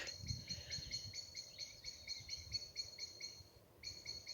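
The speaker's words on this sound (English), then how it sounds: "There's been some gorgeous, gorgeous birdsong in the trees." Repeated bright, chirping blackbird song rings out steadily from trees in quiet outdoor air at dusk, with a faint low rumble underneath and no voices.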